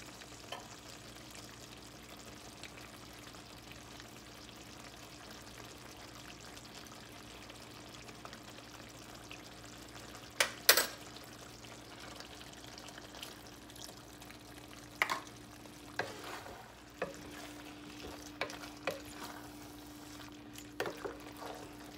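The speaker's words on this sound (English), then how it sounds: "I am going to add a slurry of water and cornstarch." Water and cornstarch slurry goes into a simmering pot of cranberry beef and vegetables, then gets stirred; a quiet, steady hum gives way to faint sizzling and scattered sharp pops and scrapes in the second half.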